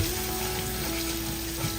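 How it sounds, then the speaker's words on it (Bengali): Potato pieces marinated and frying in mustard oil give a steady, close, continuous sizzle with no talk. "আলুটা প্রায় ভাজা হয়ে আসছে"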